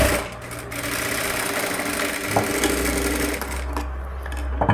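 A sewing machine hums continuously and close by as it stitches a blouse back seam about 1.5 inches long, with a brief change in pitch midway and no pauses.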